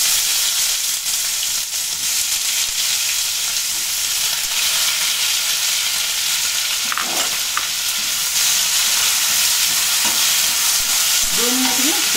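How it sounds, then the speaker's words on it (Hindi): Finely chopped onions with green chillies frying in oil for egg curry, a loud steady sizzle throughout with occasional scrapes of stirring, close by. "अब हम जो प्याज रखे हुए हैं महीन महीन काट कर वो डाल रहे हैं।"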